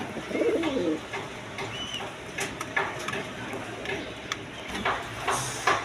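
Satin pigeons coo softly and repeatedly in the background, mixed with other faint bird calls and some low ambient noise.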